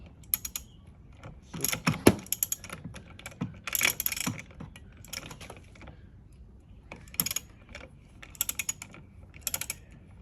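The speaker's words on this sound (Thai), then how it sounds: "ใช้ประแจเบอร์ 13 เหมือนกันครับ แต่ว่าเป็นบล็อก ตัวยาว ขันออกครับ" A long 13 mm socket wrench unscrews a mirror on a Zontes 350E motorcycle, giving off irregular bursts of sharp ratcheting clicks with short pauses between them, close up and fairly quiet.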